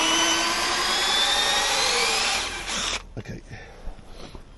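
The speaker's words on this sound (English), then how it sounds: "that's what you got to try and clean out with that wire brush" A power drill spins a wire brush inside the tilt tube of a stiff, seized outboard motor, a loud whining grind that winds down and stops, followed by a brief spoken word and small handling knocks.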